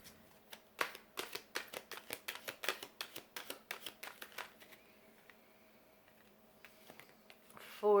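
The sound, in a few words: shuffling Soul Journey tarot cards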